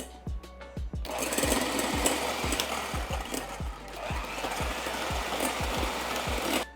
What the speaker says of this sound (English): now on low speed with a hand mixer, we're gonna mix this all together